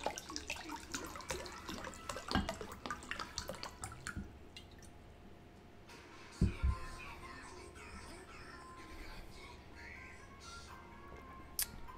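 Water pours from a bottle into a glass with splashing, trickling and dripping sounds that come in uneven bursts, fairly quiet and close, followed by a softer background hiss.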